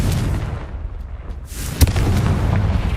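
Confringo fire spell in the Hogwarts Legacy video game, a loud booming blast that crackles briefly, with one sharp burst near the end over a rumbling low backdrop.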